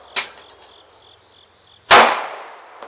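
Two sharp, loud reports from an SCCY DVG-1 pistol fired at steel targets 20 yards away at a range, the second shot followed by a ringing decay over a faint steady background hum.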